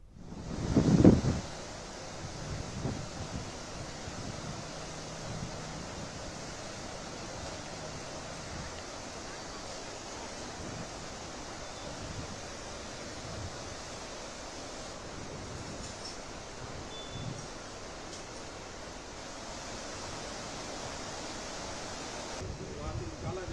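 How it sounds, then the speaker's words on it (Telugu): Heavy rushing floodwater from relentless rain, with strong wind, near the Chenab bridge at Dharamkund village in Jammu; a steady, broad roar that holds for the whole stretch after a brief louder burst at the start. "ఎడతెరిపి లేకుండా కురుస్తున్న వర్షం కారణంగా వరదలు చీనాబ్ వంతెన సమీపంలోని ధరంకుండ్ గ్రామాన్ని ముంచెత్తాయి"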